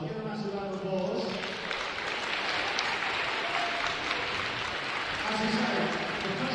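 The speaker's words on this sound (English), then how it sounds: "So give them a massive round of applause." Applause from an audience at a sports club awards night, a dense wash of clapping that swells in and holds steady for several seconds, with voices faintly mixed in.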